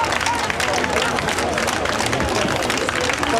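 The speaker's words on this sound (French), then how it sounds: "Sur le perron du palais de justice, la foule applaudit son défenseur" A crowd on the front steps of a French courthouse applauds a defense lawyer, dense, loud clapping blended with crowd babble and street noise, continuous throughout.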